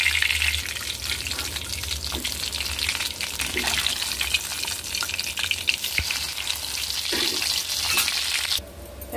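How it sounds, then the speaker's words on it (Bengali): Hilsa fish frying in oil in a pan, a dense, steady crackling sizzle that runs close and continuous, with a few soft clinks and a change in tone just before the end. "ইলিশ মাছটা দিয়ে আমি ভালো করে ভেজে নেব"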